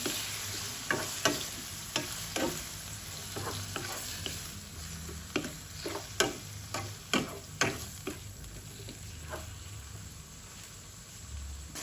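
Pork and oyster sauce being stirred in a hot pan, a spatula scraping and clacking in irregular strokes over a steady sizzle of frying, close and moderately loud with no talking.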